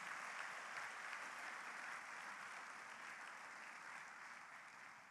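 Audience applause and cheering for a guest at a church gathering, a dense steady roar of clapping that fills the whole stretch and fades only slightly toward the end.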